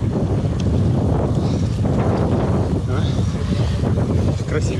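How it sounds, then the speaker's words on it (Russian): Strong wind buffeting the microphone inside a mountain tunnel during a long-distance triathlon bike leg near Sochi, a loud continuous rushing roar with gusty swells, close and dominating throughout. "Такое ощущение, что весь ветер со всех гор скопился в этом туннеле."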